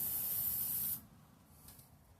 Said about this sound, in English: fast dry spray paint.